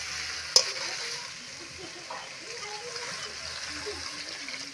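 Water is poured into a pan of spices and potatoes already fried hard in a village-style kitchen for a thin fish curry. A sharp splash hits first, then a steady sizzle and bubbling carries on under faint background sounds.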